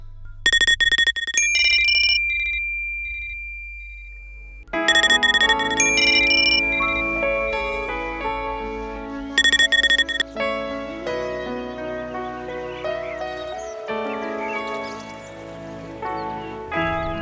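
A phone rings unanswered in a Bhojpuri-dubbed drama film: short bursts of a bright electronic ringtone repeat with pauses, then give way to swelling background music.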